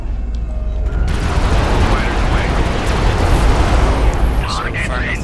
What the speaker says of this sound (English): So firing off the missiles